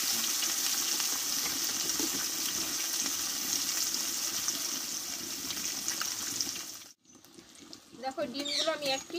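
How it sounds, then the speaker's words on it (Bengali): Eggs fry in hot mustard oil in a wok, giving a steady, close crackling sizzle that cuts out abruptly near the end. A voice follows briefly after the sizzle stops. "এবার আমি ডিমগুলোকে ভেজে নেব।"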